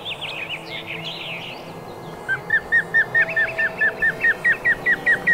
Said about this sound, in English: She'd know what that bird is.